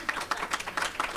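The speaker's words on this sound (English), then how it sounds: "So let's give them a round of applause." Brief, fairly quiet applause from an audience thanking the panel members at a forum Q&A session, with dense, rapid overlapping claps continuing throughout.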